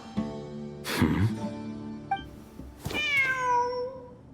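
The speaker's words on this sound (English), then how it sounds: "The cat!" A cat meows in a video game, two distinct harmonic meows about two seconds apart, the second long and rising then falling, heard alone and fairly close.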